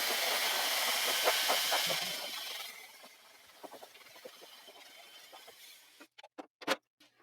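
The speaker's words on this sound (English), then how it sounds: "do a nice smooth blow dry, tucking it under slightly" A hair dryer blows steadily as a bob haircut is smoothed and tucked under, a loud broad airy rush for about two seconds before it drops away, leaving quieter handling noises and a few sharp clicks near the end.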